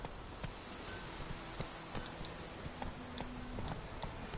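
Roach, Geralt's horse in The Witcher 3: Wild Hunt, clip-clops at a steady gallop with hoofbeats in a regular rhythm, fairly close, over continuous game ambience.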